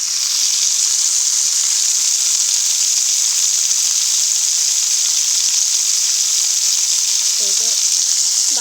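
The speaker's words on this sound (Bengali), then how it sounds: "তো বাটা মশলা দিয়ে দিলাম আলুর সাথে কষায় নেওয়ার জন্য।" Potatoes fry with a ground paste of chili, turmeric, coriander and cumin in a pan, giving a loud, steady, close sizzle throughout, with a faint scrape of stirring near the end.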